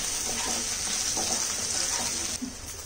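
Chopped potatoes cook with dried Bombay duck in a pan over a low flame, producing a steady, close, even sizzle with faint stirring scrapes and no talk.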